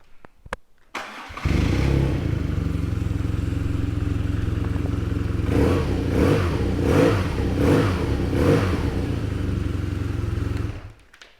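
A 2018 BMW R nineT motorcycle engine cranks and fires up, settling into a steady loud idle, then revs several times in quick succession before shutting off.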